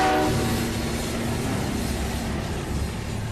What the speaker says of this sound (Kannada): ಅಲ್ಲಿ ನೋಡು ನಮ್ ಟ್ರೈನ್